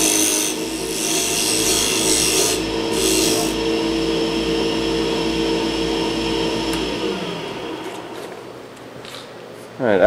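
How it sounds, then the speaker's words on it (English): A wooden top being sanded while spinning, a continuous whirring rasp with a steady hum that runs several seconds, then slows and fades near the end, close and fairly loud. "then you go ahead and start sanding"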